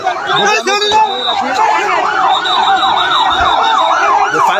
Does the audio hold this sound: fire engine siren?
yes